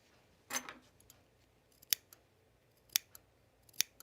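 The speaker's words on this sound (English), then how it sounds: "These scissors are a little better here." Scissors cut fabric during sewing work on a refashioned dress: a soft rustle of cloth, then three crisp, quiet snips spaced about a second apart, close by and with no talk.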